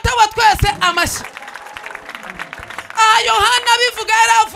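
A church congregation claps during a service: a short burst of crowd applause in the middle, framed by a strong voice speaking or singing before and after.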